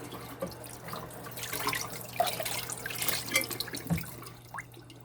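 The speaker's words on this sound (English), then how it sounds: "Now rinse it." Tap water runs and splashes over a microwave carousel plate being rinsed in a sink, a faint steady trickle with small drips and clinks close by.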